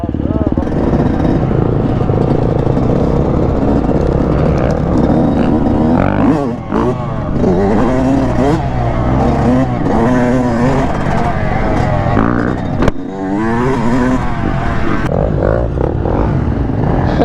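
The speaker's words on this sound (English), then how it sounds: "these are some sick bikes out here. KTM, Husqvarna, Yamaha" KTM, Husqvarna and Yamaha dirt bikes ride over a bumpy, root-covered off-road lot, their engines buzzing and revving up and down nearby, mixed with voices and general clatter.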